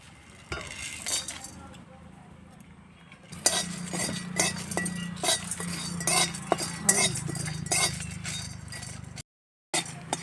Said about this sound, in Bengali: এবার এই মশলাগুলো ভেজে নেব।